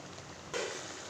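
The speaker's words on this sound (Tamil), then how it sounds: "பூரிக்கிழங்கு நல்லா கொதிக்குது." Poori potato masala with a tumbler of water added simmers in a pan on the stove, giving a quiet, steady bubbling hiss that swells slightly halfway through.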